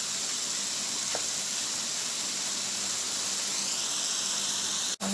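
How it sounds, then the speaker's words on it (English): Tomatoes and onions sauteing under a lid in a pan make a steady, soft sizzling hiss that runs without a break, with one small knock near the end. "I'm gonna cover this and let everything just saute."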